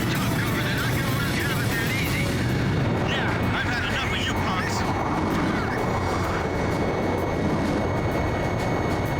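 Steady, roaring jet engine noise from an F-5 fighter flown in the Ace Combat 5 video game, a dense continuous rush that holds loud throughout, with game sound effects and speech mixed in.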